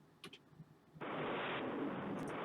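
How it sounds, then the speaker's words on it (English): Naval 5-inch gunfire striking a ship in the naval strategy game Rule the Waves: a few faint pops, then a sudden loud, sustained broadband roar of shellfire and impacts that holds steady to the end. "Now the Gurkha's being hit by 5-inch guns."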